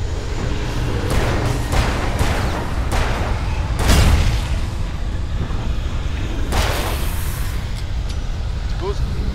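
Explosions in the video game Alan Wake, a run of deep booming blasts with a bigger burst midway, over a constant rumbling game soundscape.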